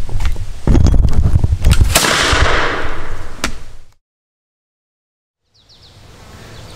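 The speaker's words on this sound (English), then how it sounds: "We got to shoot this 13th or 14th century, whatever, Japanese matchlock." A Japanese matchlock musket fires at a clay target outdoors: one sharp, loud report followed by a brief rumble and echo. Several smaller cracks and clatter come before it, then the sound drops to near silence and faint outdoor ambience returns.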